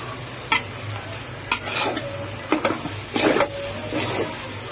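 Boiled rice with ginger being tossed in a pan for chicken fried rice: a spatula scrapes and knocks against the pan in repeated strokes over a steady, close sizzle.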